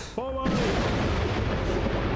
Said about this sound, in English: The cannon shot rings out